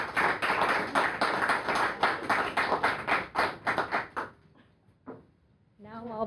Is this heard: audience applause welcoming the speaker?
yes